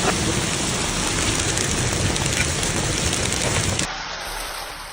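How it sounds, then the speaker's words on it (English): Heavy hail pounds down during a violent storm in Northern Colorado, a dense, loud, continuous roar of ice chunks striking surfaces that drops abruptly to a softer patter near the end. "Northern Colorado was hammered by a massive hailstorm with heavy chunks of ice that could cause serious injury"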